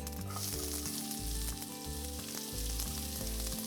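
Chopped onions sizzle steadily in hot oil, a loud continuous crackling hiss close by with no talking.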